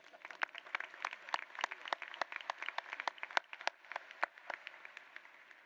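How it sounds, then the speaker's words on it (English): Graduation audience at Birdville High School's Class of 2024 ceremony gives a faint, distant round of applause for the district superintendent, sparse individual claps ringing out in a loose, uneven patter across a large hall. "Please join me in giving her a round of applause."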